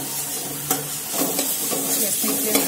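Chopped onion and cabbage sauté in a pan with leftover rice balls, giving a close, steady sizzle and hiss broken by a few clicks of stirring.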